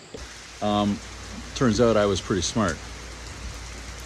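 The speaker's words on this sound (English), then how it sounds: "It's pouring rain. Pouring, absolutely pouring." Heavy pouring rain drums steadily through the whole stretch at a backcountry motorcycle stop on the Mid-Atlantic route, a constant wash beneath a voice talking close by.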